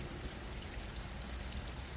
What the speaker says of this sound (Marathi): रात्री सात वाजण्याच्या सुमारामध्ये मोठा पाऊस पडत आहे या भागामध्ये